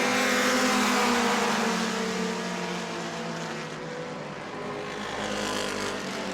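Mod Mini race cars at New Smyrna during race two, loud buzzing engines droning past in a blended pack, with shifting pitch as the cars pass, and no voices.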